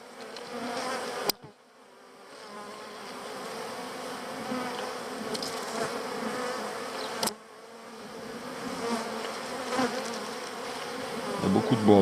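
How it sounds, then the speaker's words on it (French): Honeybees and drones buzzing inside an open hive, a dense continuous hum close up, with a couple of sharp knocks and faint handling noises. "Il y a beaucoup de bourdons à l'intérieur."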